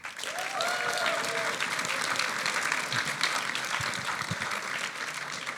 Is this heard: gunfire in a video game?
no